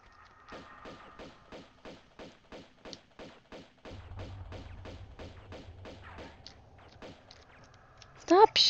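Rapid, evenly spaced pops from enemy gunmen in Tomb Raider 2's opera house level, a steady burst of roughly twenty shots at moderate level, followed by a louder game effect at the end.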